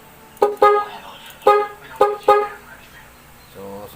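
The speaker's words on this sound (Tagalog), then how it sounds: "At switch natin sa loud horn. So, naka dual horn kasi yan mga boss." A loud two-tone motorcycle dual horn blares in short honks, two quick ones, then three more, close by and sharp.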